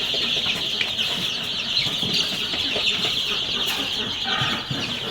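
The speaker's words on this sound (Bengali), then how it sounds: "আজকে আমার টাইগার মুরগির বয়স 3 দিন চলতেছে।" Three-day-old tiger chicken chicks make a dense, continuous chorus of high peeping in a brooding setup, with light rustling and scratching underneath. The sound is close and steady throughout.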